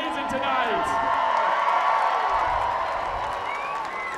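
Energetic stadium crowd at a Banana Ball baseball game in Kansas City, a steady loud roar of cheering and whoops filling the whole stretch with no break.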